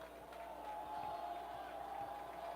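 Home crowd at a Pius X versus Grand Island high school football game cheering before a field goal attempt, a distant sustained roar of many voices with a steady tonal hum underneath, fairly faint.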